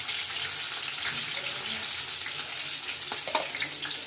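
Onions frying in a pan for curry give a steady, close hiss that runs through the whole moment, with a few small clinks near the end.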